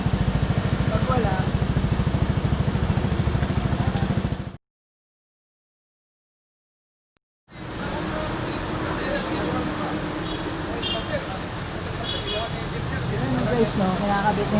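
A Yamaha NMAX 155 scooter fitted with an Akrapović full exhaust revs loudly up close, breaks off into about three seconds of silence, then returns as a steady engine drone with a speaking voice over it.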